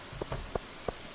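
Rain falling in the farming game Stardew Valley, a soft steady patter with a few distinct drops tapping at irregular intervals, faint and without voices.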